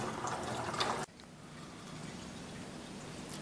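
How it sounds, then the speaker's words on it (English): Strained water runs from a hop bag back into the pot during home brewing from a recipe pack. A steady close splashing pours for about a second, then stops abruptly and leaves a faint trickle and drip. "we'll need to strain a fair bit of water out of the actual bag"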